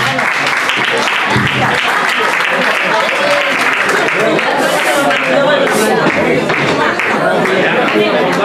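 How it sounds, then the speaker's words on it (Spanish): Sustained applause from a crowd for a flamenco performer from Corazón Flamenco de la Segarra in Cornellà, steady loud clapping filling the room with some chatter mixed in. "Un aplauso para ella, por favor"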